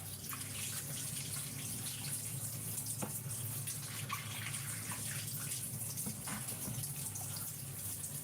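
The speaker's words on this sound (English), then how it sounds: "So I must wash... wash my peppers." A kitchen tap runs steadily while peppers are washed under it in Jamaica, a constant even hiss of flowing water with faint splashes and drips, no talking.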